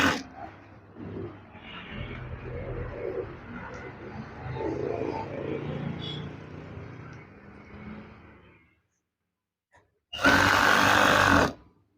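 A sewing machine stitches a curtain in one short, loud, steady whir near the end, after a stretch of muffled handling noise and a pause.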